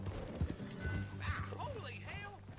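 Horse hooves and a whinny in Red Dead Redemption 2, steady hoofbeats with a short rising neigh partway through, mixed under game speech and background music.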